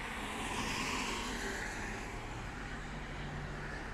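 Steady road traffic on a federal highway near Aachen, close to a service area with a truck parking lot, a continuous broadband rush of passing vehicles heard alone, moderately loud and unbroken throughout.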